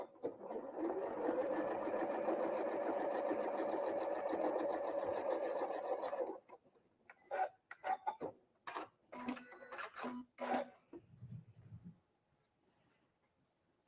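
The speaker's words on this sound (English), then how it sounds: "So I'm going to just sew that one down again." A sewing machine stitches a quilt block in one steady, close whir for about six seconds, then stops and is followed by several short clicks and handling taps.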